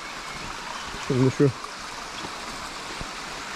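A creek runs past its bank where moso bamboo is being planted, giving a soft, continuous rushing hiss in the background while someone briefly speaks over it.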